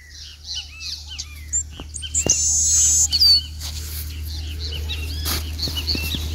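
Small birds chirp and tweet in a cornfield, many short calls scattered throughout at moderate distance over a steady low rumble, with one brief louder call near the middle.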